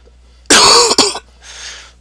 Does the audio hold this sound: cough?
yes